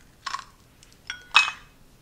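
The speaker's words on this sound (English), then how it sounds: "So I'm just gonna crack it into a bowl, put it in" An egg for buttermilk pie being cracked into a bowl in a home kitchen: a few short, sharp taps and clinks on the bowl rim, close and isolated, three distinct hits over about two seconds.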